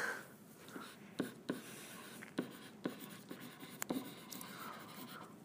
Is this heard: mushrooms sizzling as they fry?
no